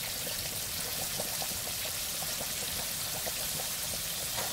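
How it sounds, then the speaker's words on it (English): Buttermilk hot sauce fried chicken sizzles in boiling oil with a steady, loud, close hiss and crackle that stays constant throughout. "I turned it down to 7. It's going to boil up a little bit."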